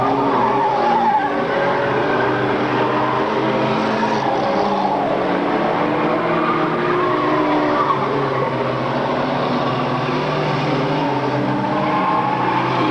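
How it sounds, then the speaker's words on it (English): Race cars compete on a track in 1997 radio DJ racing, a steady close roar of engines with tire skidding and squeal throughout, no talk. "One lap to go for race for the number 4, Brad Young."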